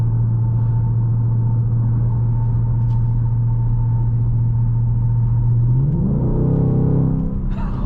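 A 2024 Ford Mustang GT Premium's V8 rumbles loudly at a steady drone from inside the car, then rises in pitch as it accelerates near the end.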